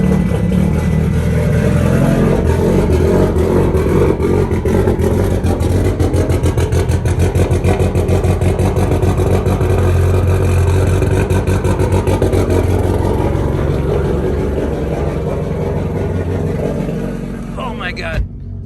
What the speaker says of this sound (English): I think we'll get a cold start for the boys.